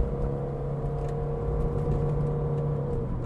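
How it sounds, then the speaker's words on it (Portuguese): A 2007 Volkswagen New Beetle engine pulling under acceleration, a low steady drone with faint tonal hum and road rumble, heard from inside the car without any talking. "O ronco do motor é bem gostoso."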